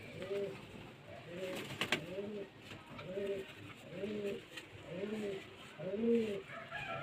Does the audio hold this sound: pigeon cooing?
yes